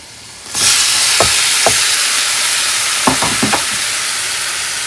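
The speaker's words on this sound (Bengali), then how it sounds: "ফলের ডাটাগুলো তেলের মধ্যে দিয়ে দিলাম" Taro stalks dropped into hot oil burst into a loud, steady sizzle that continues to the end, broken by a few sharp clinks of a utensil against the pan.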